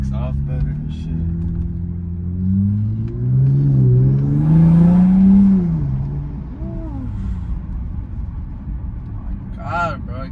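An Infiniti Q60 Red Sport fitted with Stillen intakes launches hard. Its engine note climbs and swells into a loud rising roar, then eases back to a steady drone.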